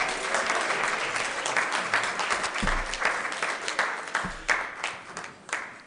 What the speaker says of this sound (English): Another round of applause for Eitz Chaim.